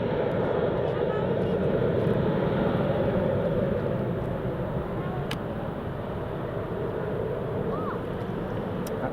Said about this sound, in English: That's the TUI just rolling there